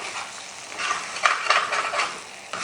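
A spoon stirring khagina egg mixture on a hot tawa: a continuous bright sizzle swelling with a few scraping stirs, close and fairly loud.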